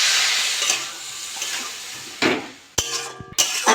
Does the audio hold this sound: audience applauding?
no